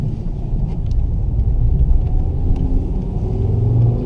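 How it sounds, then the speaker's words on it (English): A car on snow tires pulls away from a stop sign on a wintry road with gentle throttle, making a steady low engine rumble with mild wind noise, heard from inside. "I'll just be easy on the throttle and easy on the RPM."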